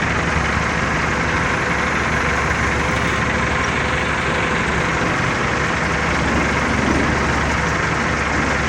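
A car crusher's engine running steadily as its hydraulic cylinder folds in during packing for transport outdoors in Dallas, a loud constant low drone with no clear change in pitch.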